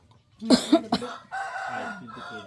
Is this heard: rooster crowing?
yes